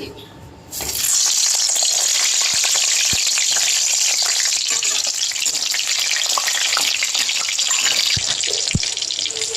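Brinjal sautéing in hot oil in a kadai for kathirikkai kuzhambu, a loud, sudden sizzle that bursts in and holds steady, with a few sharp knocks of a ladle.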